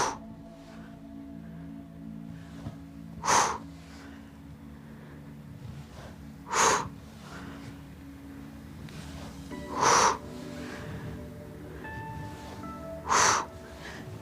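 Four loud, evenly spaced bursts of forceful exhaled breath, about every three seconds, during a fit ball abdominal workout with curl-ups, standing out over a low steady background hum.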